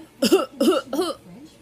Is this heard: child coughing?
yes